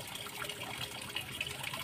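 Water keeps moving and gently splashing in a tarp pond at a fish hatchery that holds two-day-old fry and runs without an aerator. The sound is a soft, steady wash and trickle close by, with no talking.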